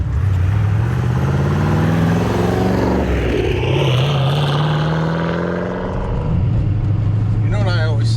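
A 2013 Camaro SS with a twin-turbo engine making over 1000 hp drives under a loud, close, droning engine note that rises and falls with throttle, with someone talking over it.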